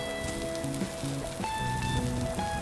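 Food frying in a pan on a camping stove outdoors gives a steady, close crackling sizzle with faint tonal hum underneath, and no one speaks over it.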